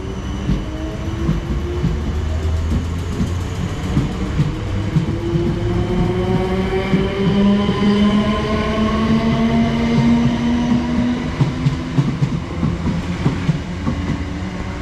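A South Western Railway train, a Class 455 unit, runs through Norbiton station on the Richmond service, its loud continuous rumble and wheel noise rising and falling with rising tonal motor whine and clattering across the whole stretch.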